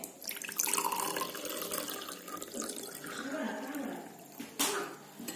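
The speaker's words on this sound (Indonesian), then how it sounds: "mau coba pakai air dulu" Water pours in a steady, splashing stream, rising and falling slightly over a few seconds, with a brief sharper splash near the end.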